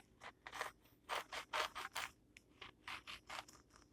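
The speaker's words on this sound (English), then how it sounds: "That's a bread knife, but man, it will rip through anything there." A sharp bread knife sawing through a tall Juicy Joe burger, a series of close crunchy, scratchy strokes in an uneven rhythm with short gaps, no talking.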